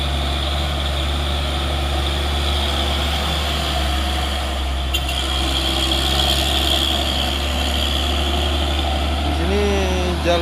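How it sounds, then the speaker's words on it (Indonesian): A Hino box truck grinds up a steep hill road, its diesel engine droning loud and close with a constant low rumble, while someone talks over it. "ini truk Hino"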